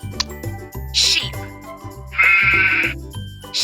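Sheep bleat repeatedly on a farm, loud nasal cries breaking over one another, with a second animal answering nearby and a brief high jingle between calls.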